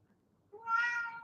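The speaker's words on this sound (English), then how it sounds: "He's literally lying on the floor and just being like, meow, meow." A pet cat gives a single drawn-out meow, fairly close and clear, rising after a quiet moment.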